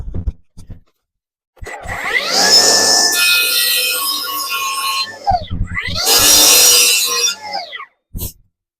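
Stone being trimmed and shaped by hand for an underground bunker, with two long bursts of harsh rasping and scraping separated by a short pause, plus a few isolated knocks at the start and end, close and fairly loud.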